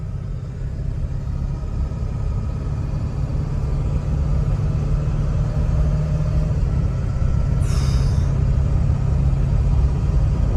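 A Ford Excursion engine runs in a steady, loud, low rumble that holds without a break for the whole stretch, with no talking.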